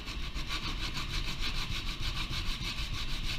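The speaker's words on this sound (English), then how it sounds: "I'm going to sand at an angle, and so if you kind of look, it's about a 45-degree angle" Wood sanded by hand at about a 45-degree angle while making a step springboard, a steady rapid back-and-forth rasping of firm strokes, close and continuous with no talk.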